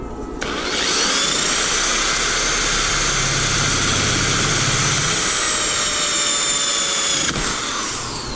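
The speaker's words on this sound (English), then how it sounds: "the first hole is for a pilot hole, so I can actually get it going" Power drill boring a pilot hole while building fishing rod storage, a loud continuous high whine that runs for about seven seconds before spinning down, close by and alone.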